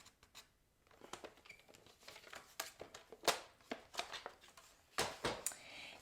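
Scissors cut cardstock up to a score line, with a string of short crisp snips and papery rustles at close range, more pronounced toward the end.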